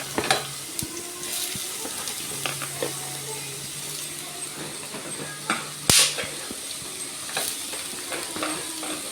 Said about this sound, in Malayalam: ഇതിലേക്ക് നമ്മൾ അരിഞ്ഞു വെച്ചേക്കുന്ന കൂമ്പ് വാരി ഇടണം.